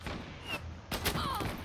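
Gunshots in the online shooter Zula ring out as a couple of sharp cracks, one near the middle and a louder burst after, fairly quiet overall beneath faint game ambience.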